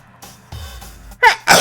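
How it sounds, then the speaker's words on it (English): A person sneezes close to the microphone: a few quiet breaths, then two sharp, loud bursts in quick succession at the end. "I'm sorry again for the sneeze."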